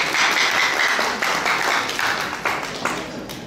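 Audience applause at a live Haitian quiz show, a dense, loud, sustained clapping crowd that swells in repeated waves and slowly fades toward the end.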